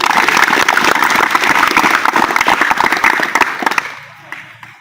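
An audience claps loudly and densely for nearly four seconds, then the applause quickly dies away into quiet.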